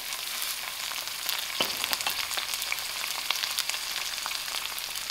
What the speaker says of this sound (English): My onions is getting fried. In that I'm using my curry leaf.